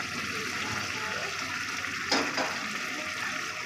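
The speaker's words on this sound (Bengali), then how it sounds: "এখানে আমি পরিমাণ মতন গরম জল দিয়ে দিলাম।" Hot water poured into a pot of browned mutton curry gives a steady wash of rushing, splashing liquid, with a brief louder gush partway through, close up and without talk.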